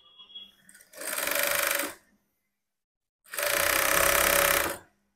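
An electric sewing machine stitches a folded half-inch hem on blouse cloth in two loud, close, steady runs of about a second each, separated by a pause of silence.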